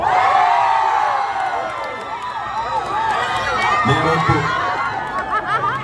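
A large crowd shouts and cheers continuously at a rally, with high excited voices and whoops overlapping in a loud, lively roar.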